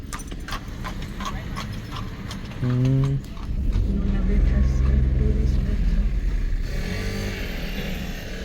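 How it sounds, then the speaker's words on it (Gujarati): Horse-drawn carriage passing along a street in Corfu old town, Greece, with hooves clip-clopping in a steady rhythm amid traffic noise, a brief horn-like tone and a passing engine, while people talk nearby. "ઘોડાગાડી હાલે છે ભાઈ અહીંયા, વાંધો નથી."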